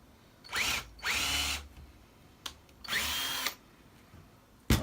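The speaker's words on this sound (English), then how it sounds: "I was trying to drill it with the reverse mechanism in it." A handheld power drill runs in reverse in three separate bursts of whirring, each spinning up and winding down, with faint clicks between them and no voices.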